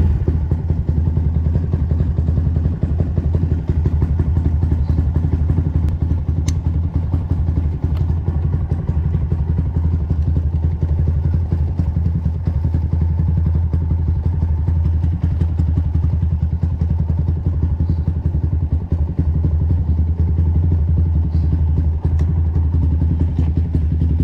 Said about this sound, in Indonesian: Jadi hari ini gua ngambil motor ini, si MX King ganteng ini